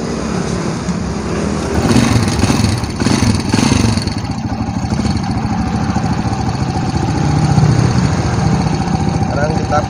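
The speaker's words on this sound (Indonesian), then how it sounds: "Pertama kita kontak kita on kan dulu. Sudah, sekarang kita starter." A carburetted motorcycle engine is started and settles into a loud, steady close-up idle with a rapid even clatter, and someone talks briefly over it.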